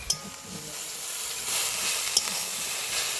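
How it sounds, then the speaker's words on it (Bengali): Thankuni greens being stirred in an open pan, giving a steady close sizzling hiss with a few brief scrapes and clicks and no talk. "ঢাকনাটা খুলে দিয়েছি, এবার ভালো করে থালকুর শাকটা নাড়িয়ে নিব"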